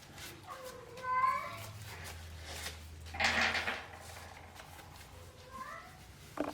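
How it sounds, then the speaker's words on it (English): A cat meows twice, a short drawn-out call early on and another near the end, with a brief rustling clatter in between and a low background hum. "Please ignore the background noise from my kitty cat."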